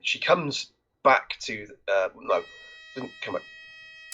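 A fire alarm under test in a house gives a steady electronic tone that starts partway through and holds to the end, faint beneath a conversation between people talking.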